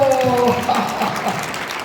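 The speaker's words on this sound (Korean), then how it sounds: "하나님께 박수를" A church congregation at a healing service claps steadily in a continuous wash of applause, with a voice speaking over it at the start.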